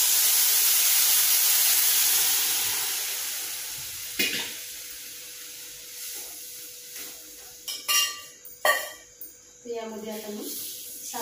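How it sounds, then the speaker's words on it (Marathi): Milk poured into a hot pan of roasted vermicelli sizzles with a steady hiss that fades, then gives way to scattered clinks and stirring knocks. "दूध टाकून घेऊया."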